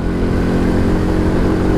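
Small motorcycle ridden over rough, bumpy asphalt on the way to a petrol station, a loud continuous engine rumble with buffeting wind noise, steady throughout with no talking.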